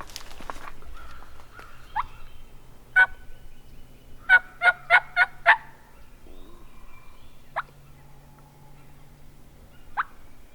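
Wild turkey in Tennessee gobbling in the distance, a quick run of rapid rattling calls in the middle with a few single yelps before and after, over quiet outdoor background.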